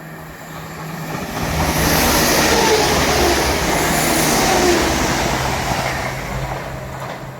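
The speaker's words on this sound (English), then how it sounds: "stand clear of the platform edge. Fast train approaching." Fast train passing through the platform at Edinburgh Gateway station, a loud rushing roar that swells to a peak midway and then slowly fades, with no voices.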